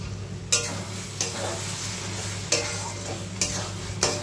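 Chicken makhani masala sautéed in a pan under a steady low sizzle, with a spoon scraping and stirring in a few sharp strokes, close and fairly quiet throughout.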